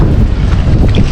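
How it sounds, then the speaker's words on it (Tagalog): Strong wind buffets the microphone in a continuous loud roar, low and rumbling, with no other sounds breaking through. "Medyo malakas po ang hangin."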